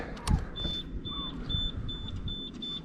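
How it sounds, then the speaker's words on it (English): An alarm system on a Triumph Bonneville T100 motorcycle emits a steady series of short, evenly spaced high beeps, moderately loud, over low road and engine rumble with brief handling noise at the start. "What is that weird beeping sound?"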